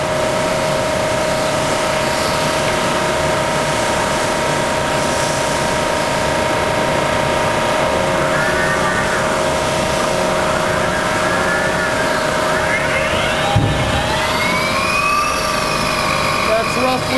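A 4-inch Cincinnati-Gilbert horizontal boring mill spindle runs in its variable mid range with a steady mechanical hum and layered whine. Near the end, as the spindle speeds up toward about 1550 RPM, a rising pitch sweeps upward. A brief thump is also heard.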